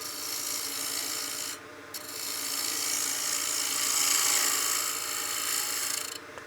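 A wood lathe turning a utility box blank with a knot in it, the chisel making a continuous close rasping scrape across the spinning wood, briefly cutting out near the middle and again near the end.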